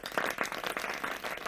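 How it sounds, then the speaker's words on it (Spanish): A short, dense round of applause from an audience at a talk on team productivity, steady clapping from many hands with no voices over it. "os pido a todos un gran aplauso a María por su intervención"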